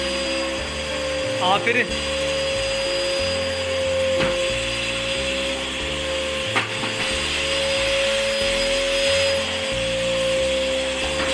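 A repaired household vacuum cleaner runs steadily with a constant motor whine and airflow hum, joined by scraping and knocking noises while a voice speaks briefly over it.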